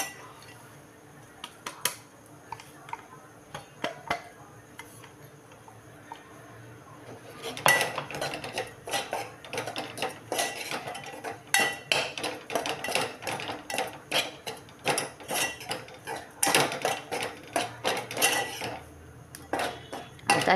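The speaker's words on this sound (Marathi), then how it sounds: "आता हे टाकून त्याला थोडंसं भाजून घेऊ." A spoon clinks and scrapes against a pan while ginger roasts in oil for a bitter gourd stuffing, sparse taps at first, then busy, rapid metallic scraping and knocking up close.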